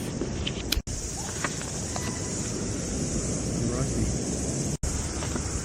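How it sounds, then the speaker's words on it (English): Ocean surf rolling in at a beach on a summer holiday, a steady broad wash with wind buffeting the microphone, with no talking. "The waves are the best they've ever been at the moment."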